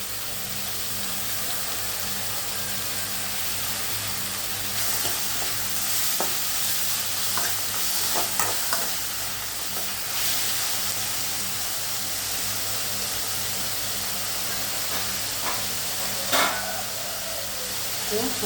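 Tomato and onion sautéing in a pan, with a constant loud sizzle and hiss and occasional faint spatula scrapes scattered across the stretch, steady throughout with no clear talking.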